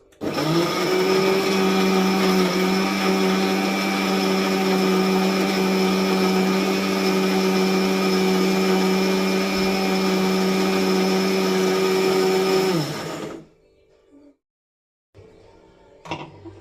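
A blender whirs loudly and steadily for about thirteen seconds while blending green mango, mint, sugar and water into juice, then cuts off abruptly, leaving near silence and a few faint clicks.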